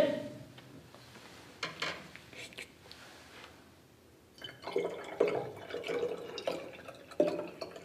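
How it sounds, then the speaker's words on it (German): A little water is poured into a container during a home weather-frog temperature experiment, with soft trickling and dripping that grows busier and louder in the second half. "du kannst ein bisschen Wasser nachschütten"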